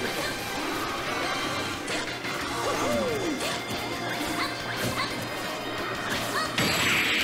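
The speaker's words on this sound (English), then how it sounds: "there's the up smash" An up smash attack lands in Super Smash Bros. for Wii U, a sharp crashing hit amid busy game sound and crowd noise during a singles match.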